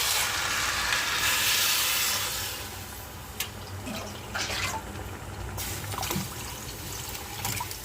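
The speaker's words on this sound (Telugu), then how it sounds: "పై పైన అలా ఎసురు వాటర్ పోసేసుకున్నాం" Water poured over raw rice in a pot for vegetable biryani makes a continuous close-up gushing trickle that loosens into intermittent splashes and drips.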